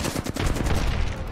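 Rapid gunfire in a Predator video game, a fast string of close, loud shots in quick succession with no talking.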